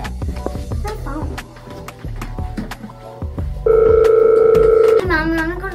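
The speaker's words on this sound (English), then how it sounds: "My phone." A mobile phone rings indoors, a loud steady electronic tone starting after a stretch of clattering movement and lasting about a second and a half, followed by a brief rising chirp.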